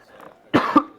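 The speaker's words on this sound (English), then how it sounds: "I'm gonna have to cough" A single close, sharp cough after a quiet breathy moment, with the start of another cough cut off at the end.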